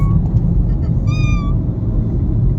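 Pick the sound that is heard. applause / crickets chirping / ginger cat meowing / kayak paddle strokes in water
ginger cat meowing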